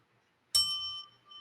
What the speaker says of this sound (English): we have to bring the bell out